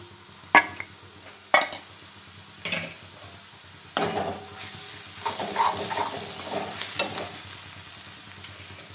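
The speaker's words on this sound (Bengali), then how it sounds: "মশলাটা কষানো হয়ে গেছে" Spices with ground red chilli sautéing in a pan for a dried fish curry: a low sizzle broken by several sharp scrapes and clatters of a spatula against the pan, close and intermittent.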